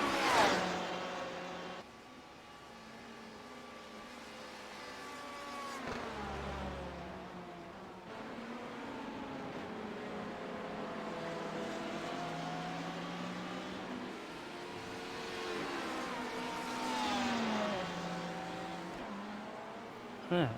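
Race car engines in the iRacing sim at Daytona, including an HPD prototype: a continuous droning engine note that rises and falls in pitch as cars run in a pack, steady and fairly loud with no talk.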